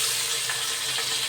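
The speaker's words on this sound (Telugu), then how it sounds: "నూనె కాగుతుందండి. చూడండి, నూనె కాగుతుంది. పెట్టేస్తున్నాను, వేసేస్తున్నాను." Food drops into hot oil and fries with a dense, steady sizzling hiss, close and continuous for a moment, no talking.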